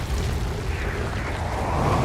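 Explosions rumble in the space game Outer Wilds, a dense, loud, continuous low boom with gritty crackle and no talk over it.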